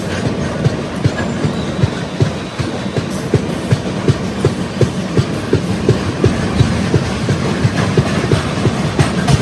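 An express train on the North Central Railway's Agra division starts to roll, rail joints clicking in a steady, closely spaced clickety-clack over a low rumble, heard from on board with no talk.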